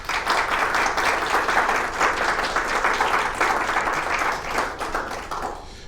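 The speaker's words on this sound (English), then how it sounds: "Ladies and gentlemen, if you could give them a round of applause," An audience at an investment service launch event in Westminster applauds steadily for several seconds, dense clapping that holds level and then begins to fade at the end.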